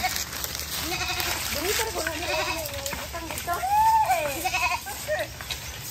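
Three goats bleat repeatedly while being herded through a gate into a fenced enclosure on a Philippine farm, with wavering calls rising over a voice talking nearby.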